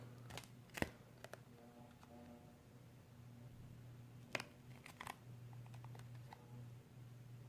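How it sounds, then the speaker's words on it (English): Scissors make a few quiet, scattered snips and crisp paper cuts rounding paper corners on a gift card wallet, with a soft steady hum underneath. "So now I'm just going to take some scissors and I just round with my scissors."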